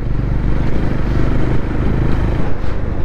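A Honda CB350 Highness motorcycle engine thumping while riding on a highway, a loud, close, continuous low rumble with steady pulsing beats and wind noise.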